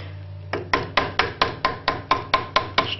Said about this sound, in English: Just got to hammer this pin out.